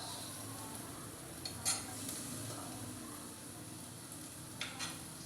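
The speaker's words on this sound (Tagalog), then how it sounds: "Mansaloy ang sibuyas." Onions sautéing in a pan for Filipino chicken tinola give a steady, fairly faint sizzle with a few soft utensil clinks and stirring scrapes, and nobody talks.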